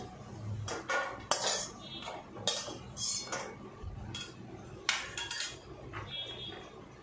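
A metal spoon scrapes and clinks against a hot wok, scooping out fried peanuts in a series of sharp, irregular taps and scrapes over a quiet kitchen background.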